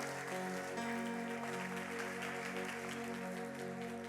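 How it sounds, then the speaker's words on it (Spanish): A church congregation gives a loud round of applause during a Sunday worship service, the clapping soft and steady over sustained music that plays underneath throughout. "Es un fuerte aplauso a Dios."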